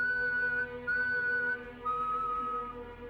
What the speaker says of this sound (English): 3 long whistles, then silence.